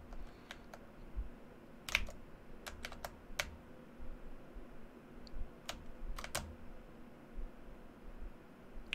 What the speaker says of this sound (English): The keyboard ASMR. I think it sounds cool.